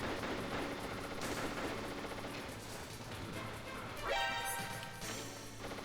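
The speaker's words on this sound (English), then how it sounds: "Like we all would be if someone was firing claymores at us" Claymore mines go off in the PC game Metal Gear Solid, with a few sharp blasts and crashing bursts rising over a low, rumbling game background.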